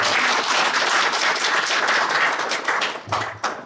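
Audience applause at an online town meeting on social welfare in Goyang, a dense, steady wash of many hands clapping close by, thinning out near the end into a few scattered claps.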